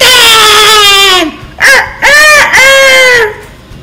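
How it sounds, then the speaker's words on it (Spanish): A rooster crows loudly and close by, one long drawn-out call followed by several shorter broken cries, with nothing else heard around it. "¡Callen al gallo, por favor!"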